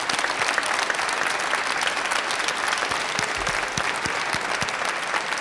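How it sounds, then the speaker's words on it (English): A crowd at a recovery advocacy rally in a Capitol rotunda applauds the planning committee, with dense, steady clapping that holds loud and even throughout. "let's give them a round of applause."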